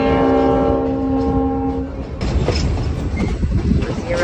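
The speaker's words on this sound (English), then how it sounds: "You never know when the train's coming." A train horn sounds a long, loud blast on a CSX line, then the rumble and clatter of passing rail cars carries on, close by.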